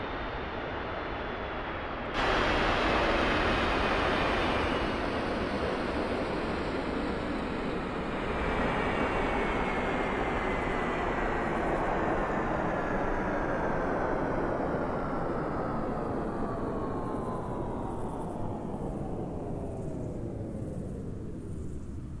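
Jet engine of an M-2000C in DCS World spinning down after shutdown, a loud broad roar with a falling whine that sweeps steadily lower and fades over about twenty seconds, with no talk.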